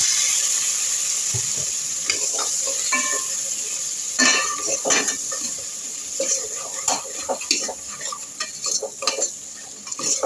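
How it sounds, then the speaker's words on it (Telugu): Chopped tomatoes fry in a pan with a steady close sizzle while a utensil stirs and scrapes, clinking against the metal now and then, with no speech over it. "ఇవంతా బాగా ఫ్రై అవ్వాలి, ఉడకాలి, టమాటాలు కూడా ఉడకాలి."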